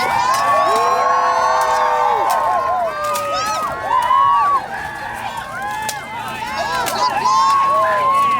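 Live crowd at the Brotherhood of the Arrow and Sword's Mother's Day show cheering and whooping, with high children's shouts and excited voices rising and falling steadily and loudly throughout.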